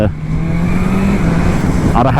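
A BMW S1000R motorcycle engine runs at low revs on barely a quarter throttle, giving a steady, close, loud drone that holds nearly constant throughout.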